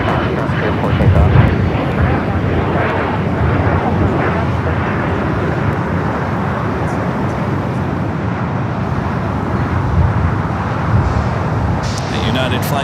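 An airliner takes off from runway 25 Right at Los Angeles International Airport, a loud, broad jet roar that holds steady throughout, with a voice talking over it.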